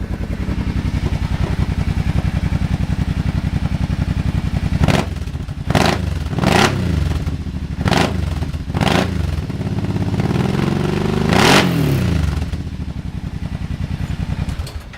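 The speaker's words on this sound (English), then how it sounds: "That's the new Yoshimura exhaust." A Kawasaki Teryx engine fitted with a new Yoshimura exhaust, loud and close, idling steadily and then revving repeatedly in short sharp bursts before settling back.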